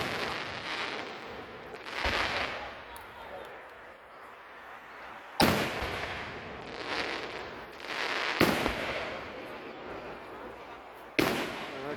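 Fireworks display at a VA park in Clarksburg, West Virginia: a series of sharp bangs and crackling bursts spaced a few seconds apart, with rumbling echoes trailing between them, heard from a moderate distance outdoors.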